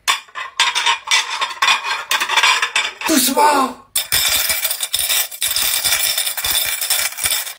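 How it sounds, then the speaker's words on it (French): Plates, glasses and cutlery clatter and clink close by as they are gathered up, in quick bursts of rattling with a short pause midway, while a voice speaks. "tu fais plus de bruit que moi avec la vaisselle"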